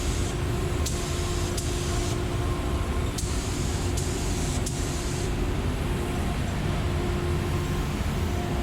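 A spray gun lays primer onto the hood of a 1935 Chevy in a garage, giving a steady, even hiss broken by a few sharp clicks as the trigger is worked.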